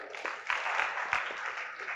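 Audience applause for teachers at a Gujarati poetry gathering in Godhra, a steady wash of clapping with a few louder swells, sustained throughout without speech.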